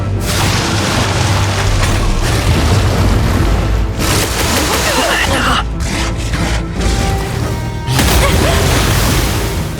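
Fire-attack explosions in a Metaphor: ReFantazio battle, heavy booming blasts and crashing bursts in a dense, loud barrage with game music and brief combat voices mixed underneath.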